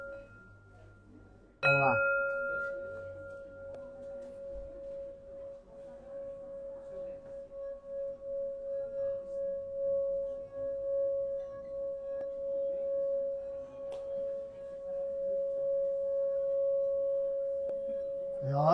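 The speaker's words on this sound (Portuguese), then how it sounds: "Já conhece o sino tibetano?" A Tibetan singing bowl is struck once, ringing with a clear sustained tone that hums and pulses steadily for many seconds, while a voice speaks briefly near the start.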